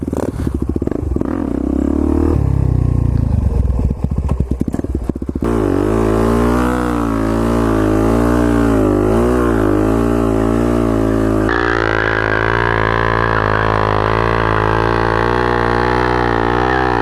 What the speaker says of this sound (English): Some fire burnouts.